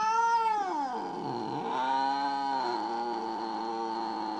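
A small kitty gives a long, loud, drawn-out meow that falls in pitch and then rises again into a sustained wail, very close and alone with no talk over it.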